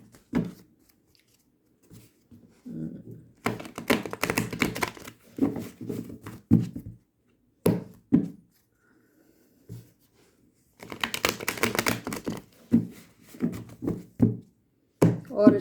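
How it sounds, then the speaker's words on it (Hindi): Tarot cards being shuffled by hand in clustered bursts of crisp riffling and tapping, separated by quiet gaps, close and fairly soft, with no talking. "और अच्छे से शफल कर लेते हैं"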